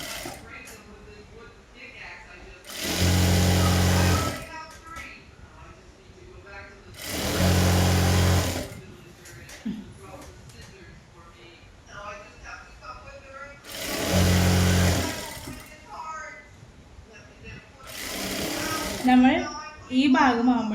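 Sewing machine stitching straight pant leg pieces in four loud bursts of rapid, steady motor whirring, separated by pauses in which someone talks.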